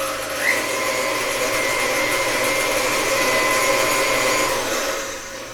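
An electric mixer runs steadily on cake batter after soda, cinnamon and cloves are added, a continuous close whirring hum that fades slightly at the end, with no talking.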